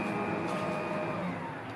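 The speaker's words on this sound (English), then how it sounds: "he's using like a weed whacker" A weed whacker's steady motor whine drones at a distance from next door, low and constant with a faint high buzz, easing slightly quieter toward the end.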